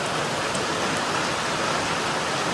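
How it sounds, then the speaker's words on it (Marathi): A dense, steady downpour of heavy village rain roars close by, an unbroken loud hiss throughout. "पाऊस खूप आहे यार."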